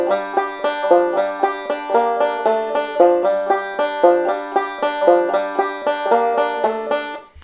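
Banjo playing a bluegrass song verse in straight, even timing without shuffle, a continuous run of evenly spaced plucked notes heard solo and up close before stopping abruptly.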